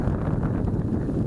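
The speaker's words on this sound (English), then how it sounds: "Wind is blowing hard." Strong wind buffets the microphone during an outdoor flight of an MJX Bugs 3 drone, giving a dense, steady low roar that fills the whole short moment, with no voices.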